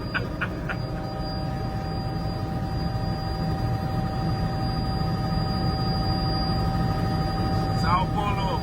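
Helicopter flying over São Paulo, a steady loud rotor and engine drone with a constant whine, heard from inside the cabin without a break.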